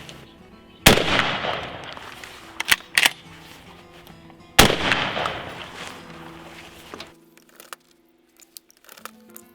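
A shotgun fires a reloaded Federal Gold Medal paper hull outdoors, two sharp loud blasts several seconds apart, each followed by a decaying echo, with faint handling clicks in between.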